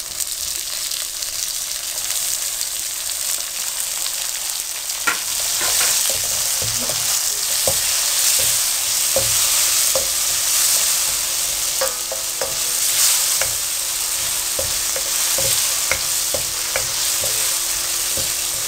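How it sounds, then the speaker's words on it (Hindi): Tomatoes hit browned onions in a hot pan for a potato, carrot and pea curry, a constant loud sizzle and hiss broken by scraping stirs and small clatters of the spoon. "प्याज अब हल्के बादामी रंग में हो गया तो इसमें टमाटर डाल देते हैं।"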